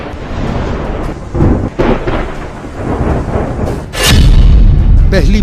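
Missile strikes and explosions in Israel–Hamas war footage from Gaza: loud, rolling booms and deep rumbling blasts, one heavy surge near the end, dense and continuous.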